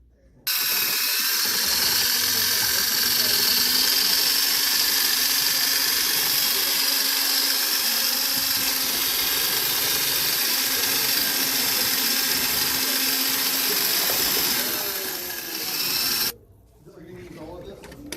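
A blender churns pottery glaze in a bucket, a loud, steady, close whirring roar that runs almost unbroken for about fifteen seconds before cutting off abruptly.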